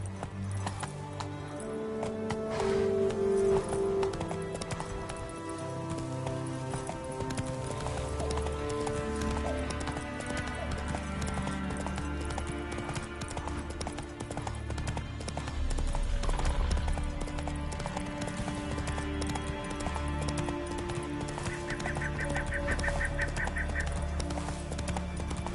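Roach the horse galloping in The Witcher 3, a steady rhythmic clip-clop of hooves running continuously under a game music score and ambient sound, with occasional faint voices.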